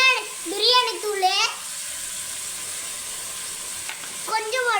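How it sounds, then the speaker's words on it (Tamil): Biryani masala powder sautéing in a pan for egg biryani: a steady close sizzle with stirring scrapes throughout, while a person talks over it at the start and end. "பிரியாணி தூள் எல்லாம் போட்டு நல்லா வணக்கி விட்டுக்கலாம்"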